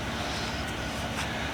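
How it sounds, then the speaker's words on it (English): A chainsaw cutting down a tree somewhere in the background, a steady dense mechanical drone without breaks, moderately faint. "I apologize if you hear a lot of chainsawing in the background"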